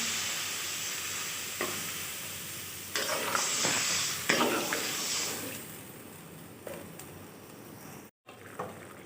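Water goes into fried papaya curry in a pan, with a steady close sizzle that surges as the liquid goes in, then occasional stirring scrapes before it settles to a quieter simmer.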